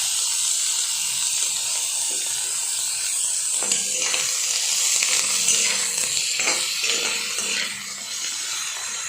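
Ginger, garlic and tomatoes hitting hot oil in a frying pan for a pork and lai xaak dish, giving a steady bright sizzle and hiss with scattered crackles, no talking.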